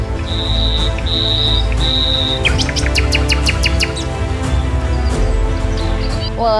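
Birds chirp in a lush natural setting. Repeated high, whistled notes give way to a quick run of rapid chirps, all over a steady low rumble of background noise.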